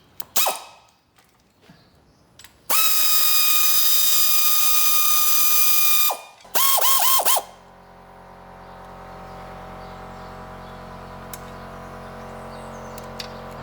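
A tool undoing the sump bolts on a T25 van's 1900 diesel engine gives a long, steady, high mechanical whir near the start, then a second shorter burst. A fainter, continuous hum and rattle follow.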